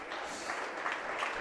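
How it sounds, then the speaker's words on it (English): Crowd applauding a fouled-out player at a junior varsity girls' basketball game in a gym, a steady broadband patter of clapping that holds at even loudness throughout with no talk. "Fisher gets a nice round of applause by the Mohawk crowd"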